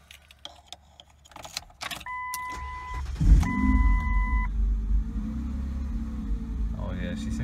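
A Ford Ranger pickup is cranked and fires up after an intake gasket replacement: keys jangle and warning chimes ring inside the cab, then the starter catches and the engine settles into a steady idle rumble, heard up close.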